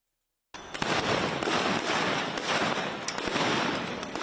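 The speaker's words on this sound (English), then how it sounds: "See them shooting right there." Dense crackling bursts of gunfire aimed at unarmed protesters, a continuous rapid series of sharp pops and cracks over a noisy crowd scene, loud and sustained from start to finish after a brief silence.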